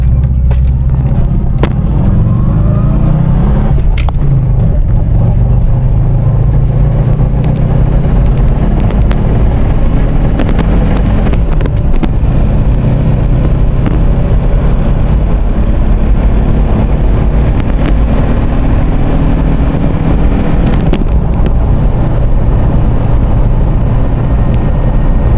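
A Subaru Loyale GL car with a clutch pulls away from a stop and keeps driving, the engine and road rumble loud and continuous from inside the cabin, with gear changes shifting the pitch.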